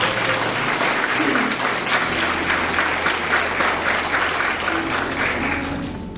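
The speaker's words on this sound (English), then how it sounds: "So give them, everybody, a round of applause." Audience at a debutante ball applauds the contest queens, a sustained wash of many hands clapping that holds steady and tapers slightly at the end.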